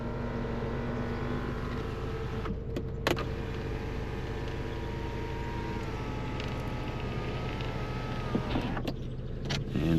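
Electric sunroof motor on a 2001 Saab 9-5 2.3t whirring steadily as the roof tilts and slides fully open, heard close inside the cabin with a couple of brief clicks and thumps along the way.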